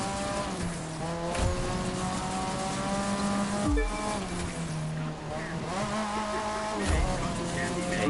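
Car drifting in The Crew 2 on a frozen Dominion course, with a steady engine whine broken by repeated tire squeals and gear-shift drops, close and continuous, with a voice occasionally over it.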